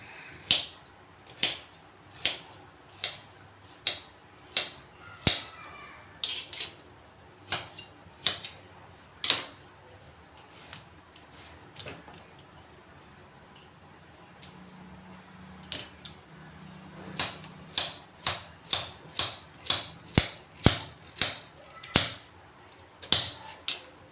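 Carrot being chopped into pieces for carrot kheer: a steady run of sharp, close knife taps on a board, roughly two bursts of a dozen cuts each separated by a brief pause.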